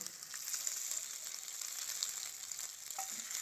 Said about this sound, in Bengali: এইরকম করে একটা একটা করে এইভাবে দিয়ে ভেজে নেব